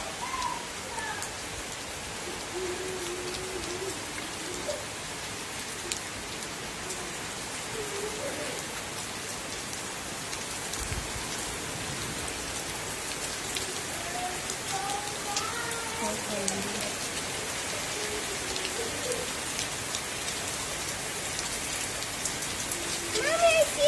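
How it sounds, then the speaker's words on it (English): Heavy rain falling in a steady, dense hiss throughout, with faint birdsong-like chirps mixed in and a brief muffled thump midway, continuous and fairly loud. "It's super rainy."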